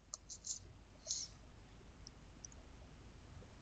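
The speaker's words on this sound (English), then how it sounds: "I'm gonna click on this one here." Computer mouse clicks while setting up a WordPress popup form: a few sharp, close clicks in the first second and a half, then fainter isolated clicks over quiet room tone.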